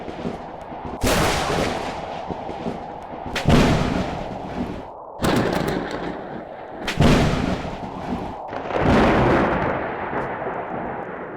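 Thunder cracks and booms from a lightning storm in the Natural Disaster Survival video game: five loud, sharp strikes at irregular intervals, each rolling away into a rumbling decay, with no voices.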